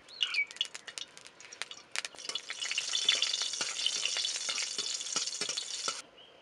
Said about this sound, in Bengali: ফোড়ন দিয়ে দেবো একটা শুকনো লঙ্কা